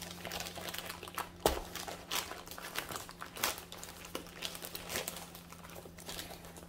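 A plastic bin-style bag holding a diamond painting kit is opened and handled up close, giving steady soft crinkling and rustling with occasional sharper crackles and taps, no voices.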